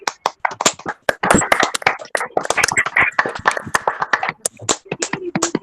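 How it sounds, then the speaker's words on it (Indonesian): A high school class claps steadily for several seconds, sharp overlapping hand claps filling the space, with a few voices faintly mixed in. "tepuk tangan dulu bisa untuk Bapak Andrian."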